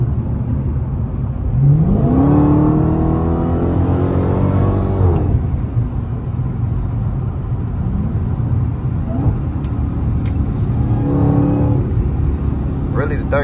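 A Dodge Hellcat revving hard as it pulls through the gears, the engine pitch climbing then dropping at a shift and rising again, heard from inside the car with road rumble and some talk.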